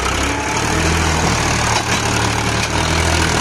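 A Powertrac Euro 47 tractor pulling a fully loaded trailer reverses in soft soil, its diesel engine a loud, close, steady low rumble with a slight strain midway.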